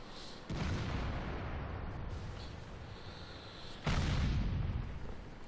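An enemy SPG artillery shot in World of Tanks lands as a loud, close boom at the start, with a steady rumbling battle din after it and a second heavy blast near the end.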